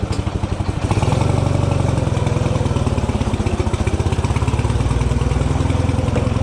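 A motorbike engine putters steadily at close range, settling into a rapid, even throb as the rider pulls away, with no voices over it.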